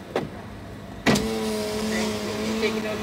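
Close by inside a car, a power window motor hums steadily as the window is lowered, starting after a brief click and continuing to the end.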